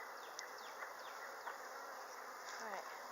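Honey bees buzz steadily around an open hive, a dense, faint, continuous drone with individual bees whizzing past close by now and then.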